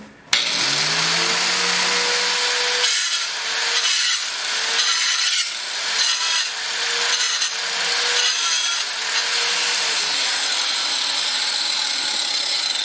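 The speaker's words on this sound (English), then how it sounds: "I'm going to make my divot right about there with the grinder" An angle grinder cuts a divot into a floor, a loud close continuous whine and grinding rasp that starts abruptly and surges in several pulses as the disc bites, with no talking.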